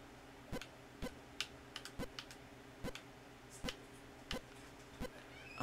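Sparse keystrokes on a computer keyboard, about a dozen separate clicks spaced irregularly over a quiet background, close by and alone without talk.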